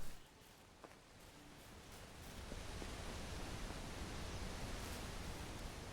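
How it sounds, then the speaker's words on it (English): Steady broadband rushing of a waterfall in the Medieval Dynasty video game, fairly loud and continuous, filling the whole scene with no voices. "you could hear the waterfall"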